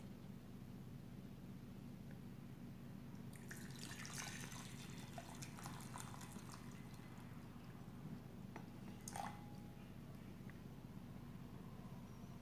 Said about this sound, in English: Next, we put the boiled water,